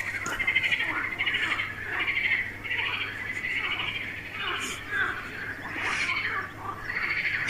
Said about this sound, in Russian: Я надеюсь, вам слышно это кваканье лягушек.